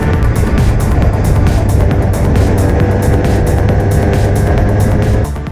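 A superkart engine screams loudly and close on a wet Queensland Raceway track, its revs pulsing rhythmically at high pitch before easing off at the very end.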